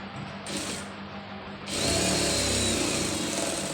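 Sewing machine stitching two fabric pieces together at a joint, a steady mechanical whirr that grows louder and denser partway through, running alone without talk.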